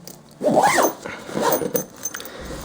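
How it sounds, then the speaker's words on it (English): Zippers on a 15.6-inch laptop security backpack are pulled closed in two or three quick, close, loud strokes, with a little fabric rustle between them and no talking. "So we'll zip these up."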